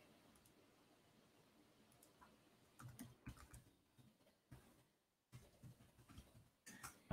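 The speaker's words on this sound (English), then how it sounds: "So I'm going to type again." Typing on a computer keyboard while entering a password, soft scattered keystrokes at first, then quicker bursts of clicks with brief pauses, close and fairly quiet.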